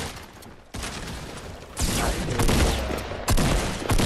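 Sniper gunfire in a battle royale video game comes as several loud, sharp cracks over a continuous roar of game noise.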